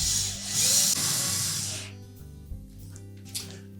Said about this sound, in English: Install the screws that hold the panel in place.